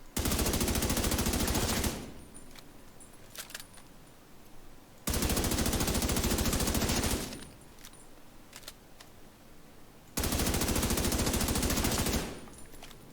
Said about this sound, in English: I'm going to shoot 3 targets and see what our DPS is.